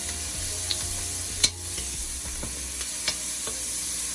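Seasoned fish for a Jamaican-style curry is stirred in a pan over a low, steady sizzle, with sharp scrapes and clinks of the utensil against the pan.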